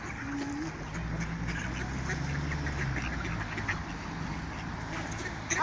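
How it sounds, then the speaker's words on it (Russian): Wild ducks quack steadily while being fed bread outdoors, the calls close and fairly loud over a continuous low rumble of background noise. "Этой прожорливой утке достались большущие куски хлебушка."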